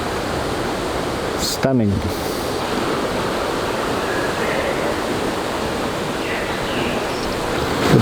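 A rainforest creek flows steadily beside a boardwalk, a broad, even rushing wash filling the whole stretch, with one short spoken word early on.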